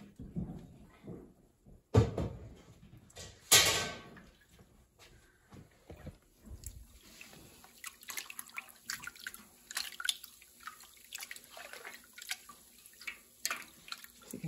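Tap water at 75 degrees is poured into a cheese pot for a Colby and stirred, with faint splashes, drips and soft clinks of the pot under a quiet, close room tone.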